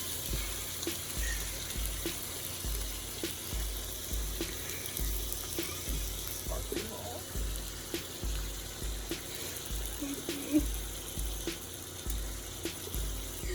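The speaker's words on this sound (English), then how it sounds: "now I'm going to put my sauce in" Sauce goes into a pot of meatballs, bringing a steady low bubbling and sizzling with faint clinks and a soft pulsing hum underneath, continuous and close, with no talking.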